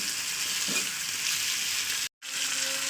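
A spice mixture for khichuri fries steadily in hot oil, a continuous broadband sizzle with a brief stir near the start and a short dropout near the end.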